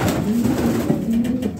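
Racing pigeons in a loft coo nearby in a low, throaty, rolling call, loud and continuous over a short stretch, with the steady rustle of the loft behind it.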